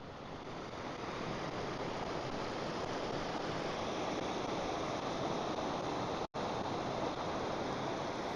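A river rushes steadily and loudly around someone wading across it on a soaked hillside walk in the Brecon Beacons, with a dense, unbroken roar of flowing water and a brief dropout near the end.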